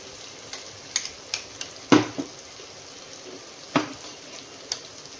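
Ground paste of roasted coconut added to a hot pan, a faint low fry beneath a few scattered scrapes and taps of a spoon against the pan, close by and quiet, with no speech.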